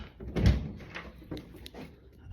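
A hotel room door opens with a few dull knocks and a soft swing, heard up close in a quiet room, with no talking.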